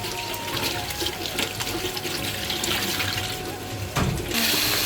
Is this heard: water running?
yes